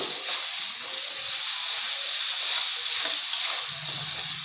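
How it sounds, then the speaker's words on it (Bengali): A mixed spice blend of coriander and cumin sizzles steadily in hot oil in a pan, a continuous close hiss with soft stirring movements and a brief low hum near the end. "এবার মশলাটাকে একটু কষিয়ে নেব"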